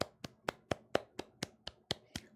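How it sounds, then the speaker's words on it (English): Steady hand clapping from a single person, about ten evenly spaced claps, moderately close and soft, with no talk. "Round of applause for these wonderful ladies."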